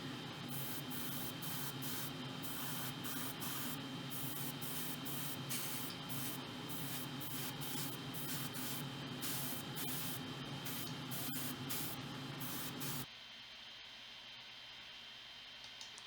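Light clear coat hisses from a spray can onto a model Ferrari 812 Superfast car dashboard in short repeated bursts for about thirteen seconds, close and steady, then cuts to quiet.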